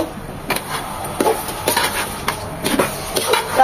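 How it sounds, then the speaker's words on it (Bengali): Lentils being stirred with spices in a cooking pot: repeated scraping and knocking of a spoon against the metal pot in an irregular rhythm, close and moderately loud. "এখন সবকিছু এই মশলার সাথে 4 থেকে 5 মিনিট নেড়ে চেড়ে ভালোভাবে কষিয়ে নেব।"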